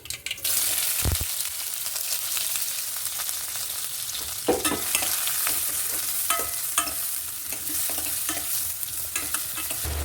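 Chopped onions, two medium ones, stirred and frying in hot oil with mustard seeds for a black-eyed pea curry, giving a steady close sizzle broken by scraping spoon strokes and small crackles throughout, with no talk.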